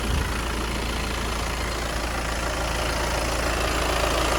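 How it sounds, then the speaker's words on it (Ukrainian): A 2018 Skoda Kodiak 2.0 TDI diesel engine idles steadily nearby, a constant low rumble with a faint rhythmic knock and no voices. "Двигун працює рівно, масло не бере, добре заводиться"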